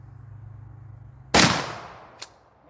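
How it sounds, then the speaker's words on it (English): A single loud shotgun blast from a Mallet Master firing a 2 3/4 inch slug at an oil bottle, sharp and close after quiet, with a faint echoing crack trailing a second later. "I'm gonna shoot that oil bottle over there"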